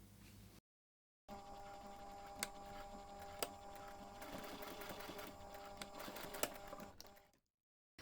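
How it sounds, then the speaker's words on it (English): A sewing machine stitches along the straight edges of a fabric jewellery pouch, whirring in one steady, fairly quiet run of about six seconds after a short pause, with a few faint ticks, then stopping. "Then you can take this to the machine again and simply stitch along those 2 straight"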